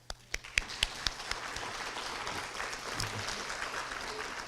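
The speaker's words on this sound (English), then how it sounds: "I think that deserves a round of applause." A few scattered claps quickly build into sustained applause from the audience at an early college scholars celebration, a moderate, steady clapping that carries on to the end.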